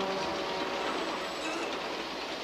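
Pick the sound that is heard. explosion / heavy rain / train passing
train passing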